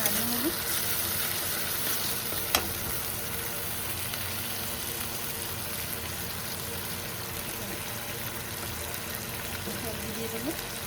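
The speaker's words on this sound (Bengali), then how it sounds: "একটু নাড়িয়ে নেব।" Tomato and ginger paste stirred and fried in a pan give a steady, close sizzle that runs evenly throughout, with one sharp click partway through.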